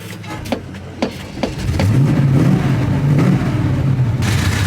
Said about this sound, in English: And it starts up very easily.